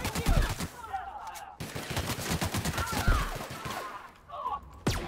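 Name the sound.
gunfire in the video game The Outer Worlds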